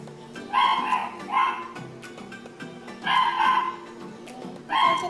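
A dog barks in short bursts, three clusters of two or three barks, fairly close, with faint background noise between.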